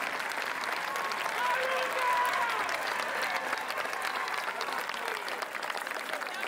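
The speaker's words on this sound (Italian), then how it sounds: "Un applauso per Luca Ward" Audience applause for Luca Ward at a live symphony concert in Ascoli Piceno, Italy: sustained, even clapping from a large crowd, moderately distant and steady throughout, with crowd murmur mixed in.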